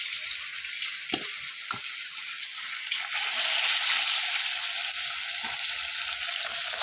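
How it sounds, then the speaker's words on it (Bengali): Fish frying gently in a pan, a steady broad hiss of oil with two brief sharp pops early on and a slightly louder, denser sizzle through the second half, heard alone without talk. "তো মাছগুলো এখন ধীরে সুস্থে ভাজা করে নিই"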